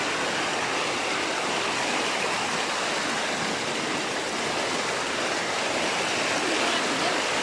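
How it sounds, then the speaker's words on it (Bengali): Fast floodwater rushes across a main road in Amarpur, Rangamati, a dense, steady roar like a torrent that stays loud and unbroken from start to finish. "অসম্ভব স্পিড জলের, অসম্ভব স্পিড জলের। এখানে এত জল, পরিমাণে জল বলার বাইরে।"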